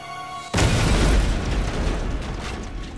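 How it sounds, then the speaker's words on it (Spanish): A mail bomb detonates in a sudden, loud blast that cuts in after a brief hum, its heavy boom rumbling and slowly fading over a few seconds with no voices. "La explosión fue la más espantosa hasta entonces."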